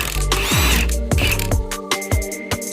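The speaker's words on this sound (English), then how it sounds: "Now we're gonna go ahead and start taking bolts off the top of the strut tower." A ratchet wrench cranks off strut tower top bolts on a 2013 Mazdaspeed3 during a suspension install, loud close clicking in quick bursts with a few sharper metallic knocks, no talk.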